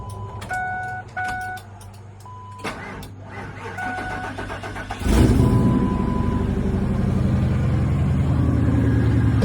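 A Ford 5.4 Super Duty truck engine cranks and catches after a few warning chimes, then settles into a loud, steady running rumble close by.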